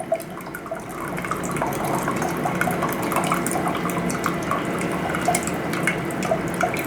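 Coffee streams steadily from a Hamilton Beach FlexBrew brewer, a soft continuous trickle and patter of liquid heard up close on its own.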